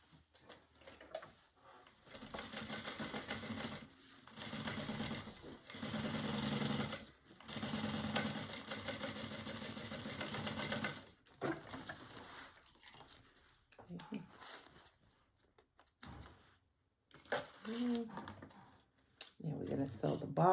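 A sewing machine stitches a bag lining in several bursts of rapid, close ticking, separated by pauses and soft handling of fabric.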